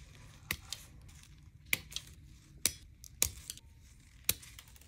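Gel X nail tips are clipped one at a time, giving five or six sharp, quiet snips spaced about a second apart over faint background hiss.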